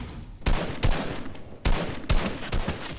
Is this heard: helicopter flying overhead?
no